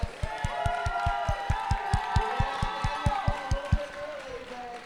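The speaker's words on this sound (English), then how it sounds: "Yeah, everybody clapping for Wheels." A roller derby crowd claps in rapid, even rhythm for the team Wheels, with cheers and voices mixed in, steady and fairly close throughout.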